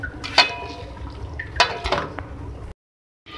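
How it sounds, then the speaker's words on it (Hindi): Macaroni and white spaghetti stirred together in a pan for a fajita-style dish: a few sharp utensil clacks against metal among soft, wet stirring and light sizzle, close up, ending in silence. "अब मैं इसको कर लूँगी मिक्स।"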